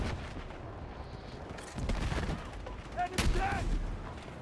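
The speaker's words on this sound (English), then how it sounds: "you can tell there's a lot of fire coming in" Distant gunfire in the video game Battlefield 6 arrives as scattered, muffled bursts and a couple of sharper cracks over a low, rumbling battlefield backdrop, fairly quiet overall.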